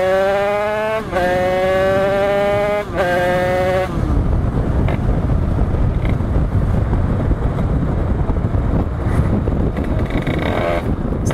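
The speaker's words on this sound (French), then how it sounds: "c'est tellement un plaisir de tirer avec une moto réglée" A tuned 86cc Italkit moped engine revs hard while riding, with a rising, whining two-stroke pitch through gear changes, then wind-blasted engine roar and rushing air close to the microphone.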